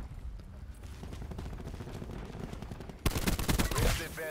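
Rapid rifle fire in Call of Duty Black Ops 4, a scoped weapon letting off dense bursts of shots, with a louder, sharper volley near the end.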